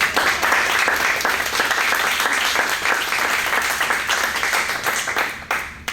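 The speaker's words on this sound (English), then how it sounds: "let's give them all a round of applause" Loud, dense applause for candidates at a political forum, a full room clapping steadily before it quickly fades at the end.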